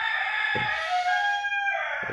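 A rooster crows in one long drawn-out call, fairly close and clear, with faint thumps and quiet surroundings.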